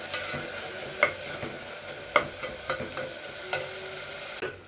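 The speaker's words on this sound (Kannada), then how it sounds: "ಅರಿಶಿನ ಹಾಕ್ಕೊಂಡು ಇನ್ನೊಂದು ಸಲ ಚೆನ್ನಾಗಿ ಮಿಕ್ಸ್ ಮಾಡ್ಕೊತೀನಿ" Tomatoes with turmeric frying in a pan for tomato bath, a soft continuous sizzle punctuated by sharp, irregular clicks of a spoon stirring and scraping the pan, close and without talk.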